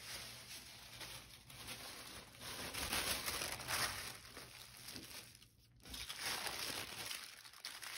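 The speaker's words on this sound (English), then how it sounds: "we want a piece of tissue paper to go over it" Sheet of tissue paper crinkling and rustling as it is handled and laid over fabric on a journal cover, a continuous close, broadband papery crackle with a short quieter gap near the end.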